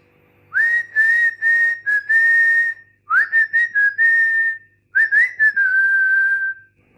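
Close, bright whistling of the València football club anthem by one person, three lively melodic phrases separated by short pauses, with no other sound around it.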